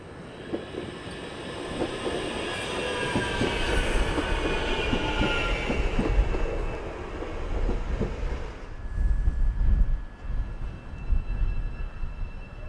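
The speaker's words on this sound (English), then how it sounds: "it was time to join the Matangi EMUs at Plimmerton station" A Matangi EMU electric train moves through Plimmerton station with rumbling wheels, clattering rail joints and a faint squeal, loud at first and then easing, with a steady tone and more rumble toward the end.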